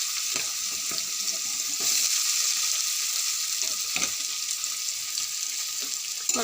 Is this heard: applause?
no